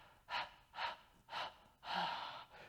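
Rhythmic Pilates breathing during a core exercise: three short forceful breaths in a steady beat, then one longer, fuller exhale, close and clear with no talk.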